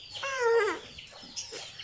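A hen gives a short run of clucking calls, loud and close at first and then softer, quieter clucks trailing after, with no talking.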